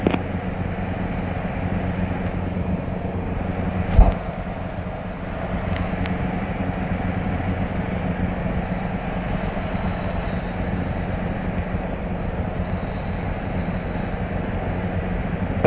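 The engine of a TB9 light propeller plane drones steadily and loudly from inside the cabin during the takeoff run, with a steady high whine over the rumble and one brief thump.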